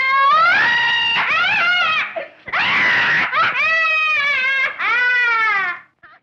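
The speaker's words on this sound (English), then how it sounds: "The only bright spot, according to Wells, was the shrieking innkeeper" A woman's piercing, wailing shrieks from the innkeeper in the 1933 film The Invisible Man, several long hysterical screams in close succession with a brief break midway.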